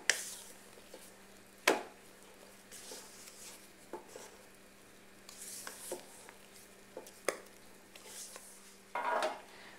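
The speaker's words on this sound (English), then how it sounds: "go ahead and finish mixing it by hand" Petit four cake batter stirred by hand in a bowl after coming off a stand mixer, with scattered clinks and scrapes of a utensil against the bowl and a few sharper knocks, close and fairly quiet.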